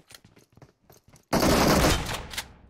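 Gunfire erupts in PUBG Mobile on the Erangel map, first several short sharp shots spaced apart, then a loud sustained burst of rapid automatic fire that trails off with a final crack.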